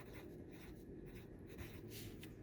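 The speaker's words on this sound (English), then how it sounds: "I'm going to write gather point" A pen writes on a sewing pattern, making faint, steady scratching strokes close by, with no talking.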